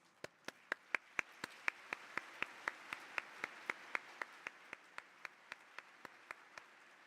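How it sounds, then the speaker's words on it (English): An audience applauds speakers at a conference session in a main hall, with sharp, regularly spaced claps standing out over a steady wash of crowd clapping for about seven seconds. "Please give a round of applause once again to the speakers."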